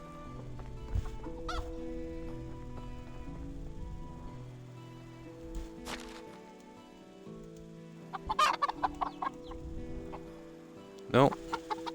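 Chickens cluck and squawk in short irregular bursts over a soft ambient hum in the medieval farming game Medieval Dynasty, with several sharper, louder calls toward the end; someone speaks briefly between them.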